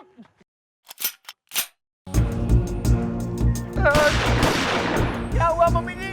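Sharp bursts of gunfire crack close by, first a few isolated shots, then a sustained rapid volley of loud shots with people shouting over it.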